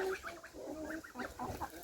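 Wyandotte hens of the white-gold variety clucking and murmuring close by in a backyard flock, a run of short, throaty, gurgling calls with no talking.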